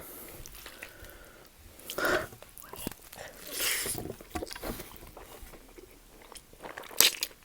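Someone eats a huge block of Spam with creamy pasta carbonara and roasted tomatoes, giving close, crisp bites and crunches with wet chewing, scattered irregularly and heard up close with no talk.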